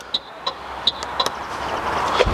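Bright electronic indicator beeps from an electric scooter chirp in a regular rhythm, several short tones spaced about a third of a second apart, over faint background noise.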